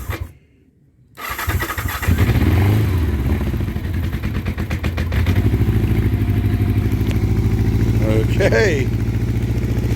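A 1984 Honda CB700SC Nighthawk motorcycle with running issues cranks after a brief silence and catches, then settles into a loud, close, slightly uneven idle, with a person speaking briefly over the engine.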